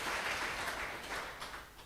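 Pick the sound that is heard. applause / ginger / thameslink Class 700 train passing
applause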